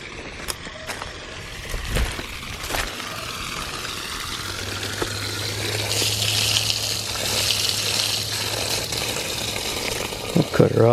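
Water gushes and splashes from a busted waterline being flushed out after dark, a continuous rushing spray with a low hum beneath, someone talking over it and scattered knocks near the start and end.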